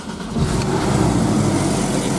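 A Porsche 718 Cayman with PDK and sports exhaust cranks and fires up, going from near quiet to a sudden loud engine catch, then settling into a steady, deep idle rumble close by.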